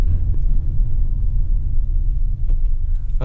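A 2023 Toyota RAV4 Hybrid Woodland Edition driving on a trail, a steady low cabin rumble with occasional light knocks and rattles from the rough surface.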